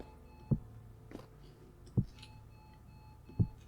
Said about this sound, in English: that alarm really is getting on my nerves